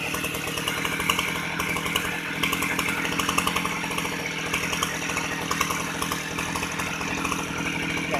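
A Mitsubishi T170 brush cutter engine runs steadily, a loud, buzzing two-stroke drone with a rapid rhythmic rattle that holds nearly constant throughout, close to the listener.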